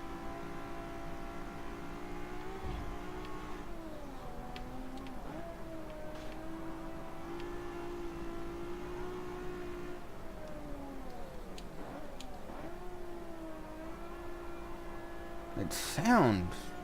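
A Ferrari's engine and muffler in the racing game Forza Motorsport 7 hum steadily at moderate volume, with the pitch dipping and rising through gear shifts and a brief louder burst near the end.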